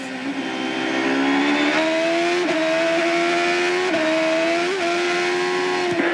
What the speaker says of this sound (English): You heard that little bit of wheel spin.